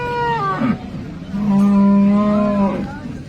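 A cow moos twice nearby at a cattle market in Sangola, Maharashtra, a short low call followed by a longer drawn-out one, with faint background noise between.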